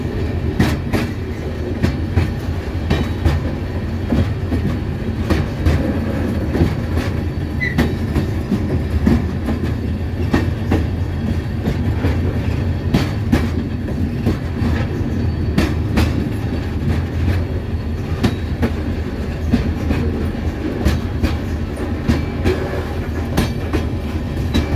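Train wheels clickety-clack over rail joints in a steady rhythm, loud and close, with constant rumble and rattling carriage noise and no talking.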